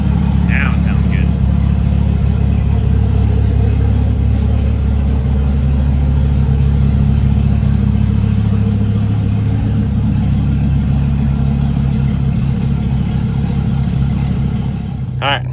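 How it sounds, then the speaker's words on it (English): Viper V10 engine of a Dodge Ram SRT-10 pickup running with its exhaust cutouts open, a loud, steady, deep rumble heard from inside the truck that continues throughout. "It sounds so good with the cutouts open."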